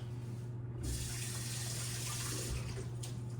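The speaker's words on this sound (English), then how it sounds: "Rinse your hands immediately after doing that, or they will get very sticky." Tap water runs steadily into a sink as hands are rinsed, a close, continuous splashing hiss with small shifts as the hands move under the stream.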